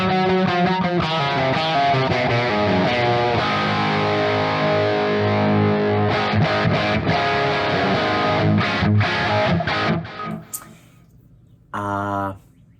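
Heavily distorted electric guitar through a Spark 40 amp plays chords and riffs with a thick, saturated tone, then cuts out and returns briefly near the end.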